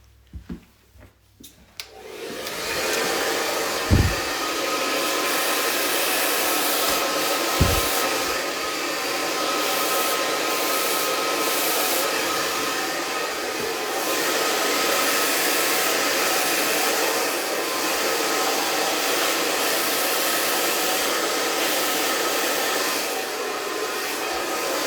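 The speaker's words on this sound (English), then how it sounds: "Might have to blow dry that little area." A hair dryer blows steadily on a freshly cut fringe, starting after a brief pause and running as a continuous loud whoosh with small handling bumps, no talking over it.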